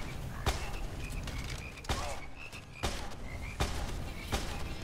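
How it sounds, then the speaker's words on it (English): Frogs in the video game Immortal Redneck croak repeatedly, with several loud, regularly spaced croaks over a dense game background. "And frogs!"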